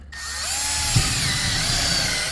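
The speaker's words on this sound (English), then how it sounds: "I'm just going to start with a 5/32 drill bit. So the next step is just to drill out those 3 holes" Power drill boring holes into wood with a 5/32 drill bit while fitting upgrades in an RV, a loud continuous motor whine that starts abruptly and holds steady, with a brief bump as the bit bites into the wood.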